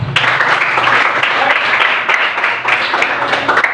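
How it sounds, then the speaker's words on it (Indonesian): A room of schoolchildren claps loudly and steadily for a few seconds, with dense, uneven clapping and no pauses. "Oke, kita aplaus."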